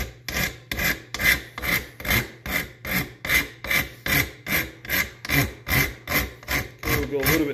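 Sandpaper rubbed on knife handle scales to round them off: steady back-and-forth rasping strokes in an even rhythm, about two per second, loud and close with no talk.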